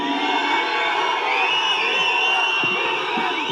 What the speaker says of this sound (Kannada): ಬರೀ ವಿಸಿಲ್ ಬರಲಿ ನೋಡ, ಬರೀ ವಿಸಿಲ್